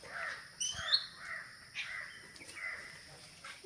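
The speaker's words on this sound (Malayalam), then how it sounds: "അപ്പോൾ അതാ കുറച്ച് കാക്കകൾ" Several crows caw outdoors after rain, with a handful of harsh calls at mid distance, spaced irregularly over a quiet background.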